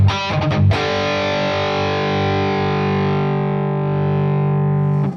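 An electric guitar with Fishman Fluence pickups plays through a high-gain extended-range amp rig. A few quick picked hits give way to one heavily distorted chord that rings loud and steady for several seconds, alone with no talk.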